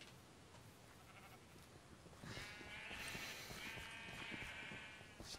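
Sheep bleat in the video game Minecraft, a few faint nasal bleats rising over quiet game ambience with soft footsteps, the calls coming close together in the second half.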